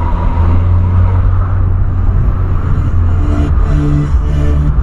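A Volkswagen Polo's engine rumbles loudly and steadily from inside the car, low and heavy as it accelerates, with faint music mixed in.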